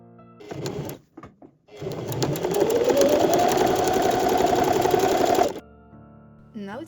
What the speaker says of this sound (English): Then pin and sew along the top edges.